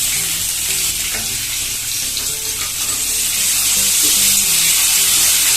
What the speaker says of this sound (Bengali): পেঁয়াজটা হালকা লাল যতক্ষণ না হয় ততক্ষণ একটু ভেজে নেব।